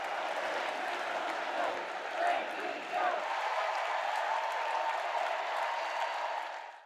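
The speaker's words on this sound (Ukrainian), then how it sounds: "Після його слів тривали довгі овації." Long ovation from a large crowd at the Democratic National Convention following Biden's speech, a steady wash of clapping and cheering that stays full and even throughout, then fades away at the end.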